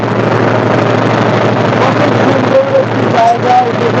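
Steady boat engine drone on the Padma river near Rajshahi, continuous and fairly loud, with wind buffeting the microphone and faint voices in the background.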